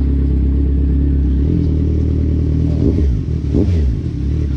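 Motorcycle engine running close by, loud and steady with a low rumble, then a couple of brief revs near the end, no voices.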